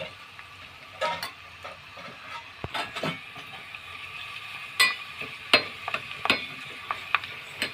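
Onions frying in oil on low heat for a homemade karisalankanni hair oil, a soft bubbling sizzle punctuated by sharp crackles and pops that grow more frequent later on.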